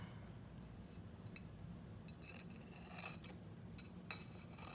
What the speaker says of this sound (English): Then I just take a pair of scissors and cut the excess tape.